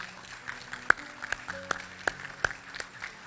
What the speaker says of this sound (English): A round of applause for our grade 8s.